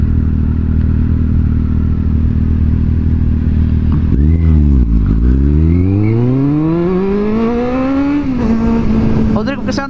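A Kawasaki Z750 motorcycle in city traffic holds a loud steady engine drone, then revs up and down in a sweeping rise and fall before settling back to a steady idle-like hum, with faint talk underneath.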